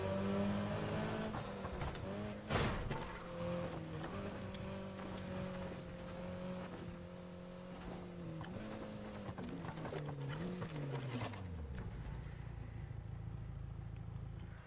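A race car in a video game speedway race, a steady droning engine whose pitch holds, shifts and then drops away near the end, loud and continuous with one sharp knock early on.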